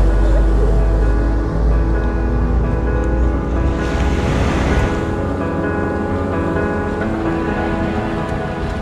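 Waves break steadily on a large beach at Larantuka in eastern Indonesia, a broad continuous wash of surf that swells briefly louder midway, with a low rumble beneath and no voice present.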